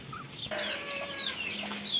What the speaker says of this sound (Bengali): এই যে আমার শেষ দেশি মুরগি